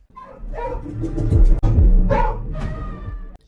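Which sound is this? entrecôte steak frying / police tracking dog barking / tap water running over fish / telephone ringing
police tracking dog barking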